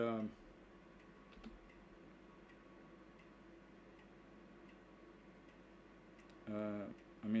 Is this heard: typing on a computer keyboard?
yes